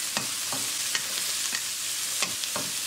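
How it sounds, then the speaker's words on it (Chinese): Eggs and chili peppers stir-frying in a wok: a steady oil sizzle runs throughout while a spatula scrapes and tosses in about six sharp, evenly spaced strokes, close and fairly loud, with no voices. "炒匀后加入鸡蛋翻炒一下"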